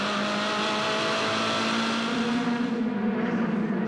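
From the onboard camera of a Formula Ford race car at Eastern Creek raceway, the engine drones loud and continuous, its steady high-revving buzz shifting slightly in pitch as the car accelerates.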